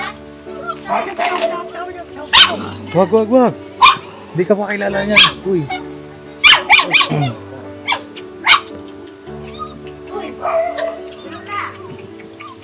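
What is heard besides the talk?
puppy barking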